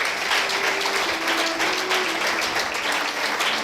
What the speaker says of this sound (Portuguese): Damos um aplauso para Jesus.